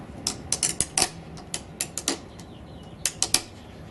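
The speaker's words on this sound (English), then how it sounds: "Drop these forward and just ratchet them in." Ratchet straps are cranked down to secure a new rack on a 2009 Arctic Cat 800 snowmobile, a series of quick, close mechanical clicks in irregular bursts, sharp and dry, with no voices.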